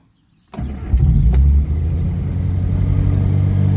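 A 1968 Riley Kestrel 1300 with the choke out cranks with a close, loud starter churn, then catches and settles into a rough, uneven idle that sounds as if it could stall.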